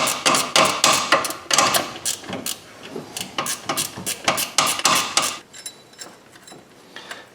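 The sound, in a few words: 14 mm ratchet wrench spinning a bolt in on a Scion xD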